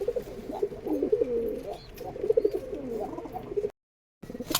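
Rajshahi Giribaz and Pakistani breed pigeons coo repeatedly at close range, soft rhythmic calls that overlap one another, with a short silent gap near the end.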